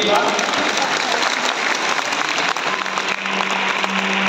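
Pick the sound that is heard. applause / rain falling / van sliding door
applause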